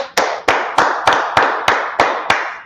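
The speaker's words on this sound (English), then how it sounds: "Let's clap it up for the Lord." A church congregation claps in unison, eight sharp, evenly spaced claps in a steady rhythm, close and loud, with no talk.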